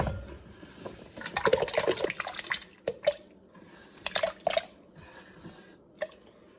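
Irregular splashes and plops of potato pieces dropping into salted water in a pot, clustered bursts with quiet gaps between, close by.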